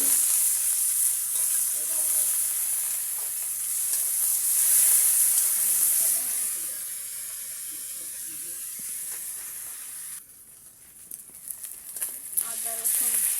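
Chicken meat fries in a pan with a continuous bright sizzle and hiss, swelling and fading as it is stirred, while people talk nearby.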